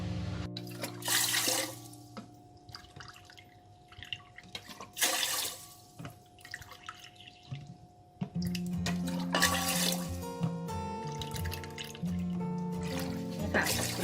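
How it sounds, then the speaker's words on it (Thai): Water poured by the cup into a rice cooker pot, several separate pours splashing and trickling close by with short pauses between, ending in a longer run of liquid sound. "ใส่น้ำหกถ้วยนะคะหนึ่งถ้วยต่อน้ำหกถ้วยค่ะ"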